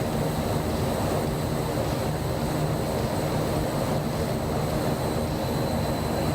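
A Fokker F27 turboprop rolls for takeoff on the runway in Microsoft Flight Simulator 2024, a loud steady engine drone with a high propeller whine, continuous and close, without talking.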